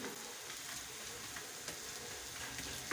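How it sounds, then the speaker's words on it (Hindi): Onions fry in hot oil for an egg gravy, giving a faint, even sizzle with occasional soft pops and no talking. "हमारे प्याज फ्राई हो चुके हैं"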